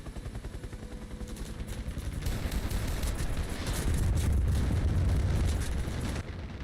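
Rockets fired from a helicopter in War Thunder streak out and explode, building into a dense rumbling barrage of bursts and gunfire that swells loud, then cuts off near the end.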